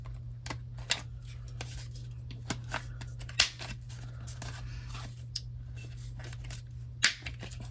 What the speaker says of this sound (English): This is an envelope corner notch punch thing with a corner rounder.